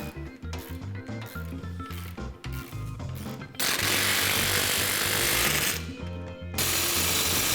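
A power tool drives the radius arm bolts on a Polaris RZR during a GDP portal gear lift install, with short rattling bursts giving way to long, loud, continuous hammering runs that come in close.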